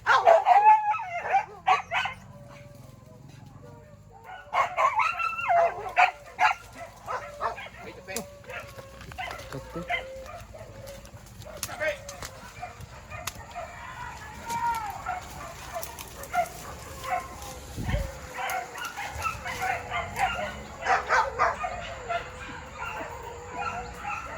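A dog barks and yips repeatedly on a campus, the bursts coming in clusters with whimpering and howl-like cries, alongside people talking and laughing nearby.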